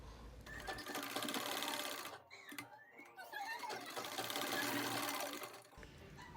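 An electric sewing machine stitching saree fabric while turning it into a lehenga, running with a steady fast whir and rattle for several seconds, stopping briefly midway and then resuming before cutting off.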